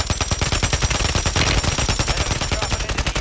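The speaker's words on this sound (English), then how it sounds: "Bunch of shooting over here" Dense, rapid gunfire from a shooter video game, loud and continuous with repeated sharp bursts and fast automatic fire throughout, no voices.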